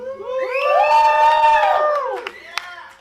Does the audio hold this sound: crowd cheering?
yes